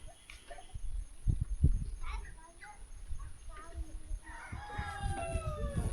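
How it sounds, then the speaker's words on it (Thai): A rooster crows in a small village hidden in the forest, its drawn-out call rising near the end over rustling and the background hum of a rural setting, with someone talking nearby. "เขามาได้ยินแต่เสียงไก่ขันเนาะ"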